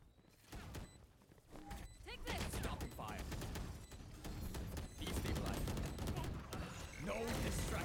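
Gunfire in the video game Valorant, rapid bursts of shots crackling in dense volleys through most of the stretch, fairly quiet overall, mixed with other game effects and a player talking over it.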